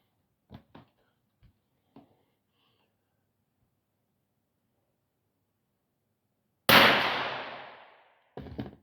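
A .22LR scoped rifle fires a single loud, close shot that rings out and decays over about a second and a half, preceded by a few faint handling clicks and followed by another sharp noise.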